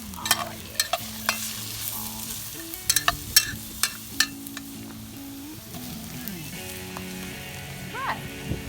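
Flour is stirred into melted butter in a hot pan, likely over an open fire, giving a close sizzle and a run of sharp scraping and clinking strokes that settle into a softer hiss.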